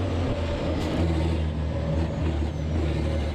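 Iveco race trucks of the European truck racing championship thunder around the Jarama circuit, a loud, steady engine roar filling the whole stretch with no break.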